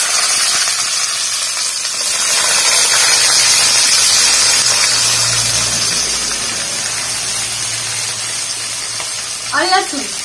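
Onion dropped into hot oil for a kathal (jackfruit) masala, a loud, close hiss that swells and stays steady, with a short burst of speech near the end.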